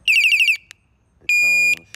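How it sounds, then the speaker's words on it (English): A Sur Ron X electric bike's anti-theft alarm sounds a loud, close electronic tone: a rapid warbling burst, a brief pause, then a steady sustained beep, each ended by a short chirp. "the little lightning looking thing allows you to change"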